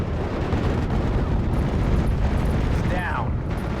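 Heavy, continuous rumbling booms of artillery fire in the WWII strategy game Steel Division: Normandy 44, a dense, loud barrage with a brief whistling shell sound, while a voice speaks over it.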